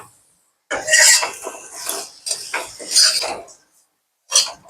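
A spoon stirs fresh homemade milk cream in a pan for coconut ladoo, giving close, intermittent scraping and clinking strokes separated by short quiet gaps.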